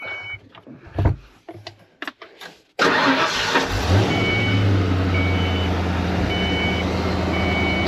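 A 1980s Fox Body Ford Mustang with a 5.0 V8, parked for over ten years, fires up after a few clicks and then idles loudly and steadily, with a beeping chime repeating behind the engine.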